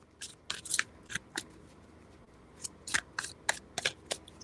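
Tarot cards are shuffled in crisp, quick bursts of riffling and flicking, separated by short pauses, close and fairly quiet with no talking.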